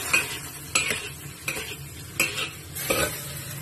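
Chinese vegetables with oyster sauce cooking in a pan, a low background sizzle punctuated by five evenly spaced scraping stirs of a utensil against the pan, close up and without speech.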